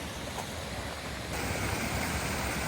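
Steady broadband roar of the Mangawero waterfall heard from the top of the falls on a cold morning, a dense continuous wash of falling water that swells slightly louder partway through, with no voices.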